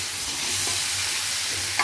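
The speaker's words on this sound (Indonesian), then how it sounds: "Kita aduk lagi." A pan of garlic, ginger and salt seasoning sizzles steadily while being stirred, with a soft scrape of the utensil near the end.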